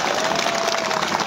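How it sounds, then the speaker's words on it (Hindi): An audience at a public speech in Jamshedpur applauds, a dense burst of clapping that fills the whole short moment. "जोरदार ताली मारिए इसके लिए"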